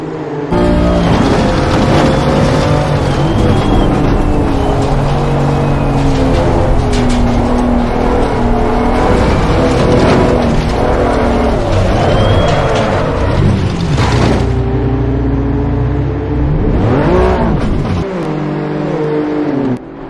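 BMW M2 CS Cup race cars lapping at Brands Hatch, engines loud and close, revving and accelerating with gear changes and passing roars throughout, no talk.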